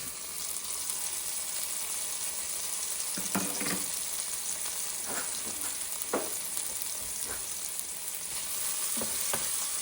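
Chopped shallot and minced garlic sauté in a pan over lowered heat, giving a quiet, even sizzle throughout, broken by a few brief scraping or stirring clicks, with no voices.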